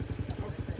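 A person imitates a motocross motorcycle engine with a rapid, evenly pulsing vocal rumble, close and fairly loud, lasting under a second.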